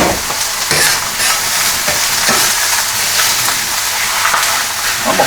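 Two pounds of chopped chip steak sizzle loudly on a Dyna-Living 22-inch commercial electric flat top griddle, a dense steady hiss broken by repeated scraping and clacking of a spatula chopping the meat.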